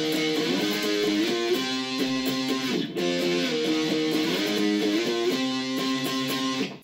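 Distorted electric guitar plays the loud, driving intro riff, a dense sustained power-chord pattern repeating twice with a brief break near the three-second mark, steady and close with no talk.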